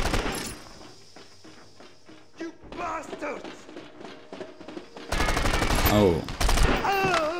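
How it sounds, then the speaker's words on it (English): Gunfire at a CTU office in the action game 24: The Game: scattered single shots at first, then loud rapid bursts near the end, with footsteps and a brief voice. "Where is the shooting coming from?"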